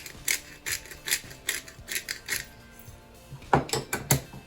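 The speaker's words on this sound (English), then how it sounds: "And then grind in some pepper." Pepper mill grinding pepper over a bowl of flour, a series of rhythmic ratcheting twists in short bursts, close and fairly quiet.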